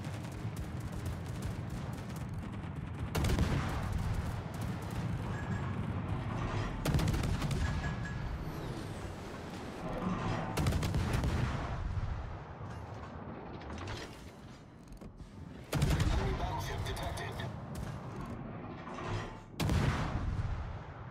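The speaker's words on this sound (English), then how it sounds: "Anti-aircraft gun crews are on full alert." Anti-aircraft guns firing from a Tier 9 ROKN Sejong cruiser in World of Warships, repeated heavy bursts of booming fire with mechanical clanks between volleys, loud and close.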